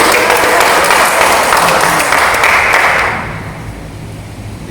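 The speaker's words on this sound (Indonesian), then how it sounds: "Tepuk tangan lagi." An audience at a financial education training session claps together in a loud, close burst of applause that lasts about three seconds before dropping off into quieter room noise.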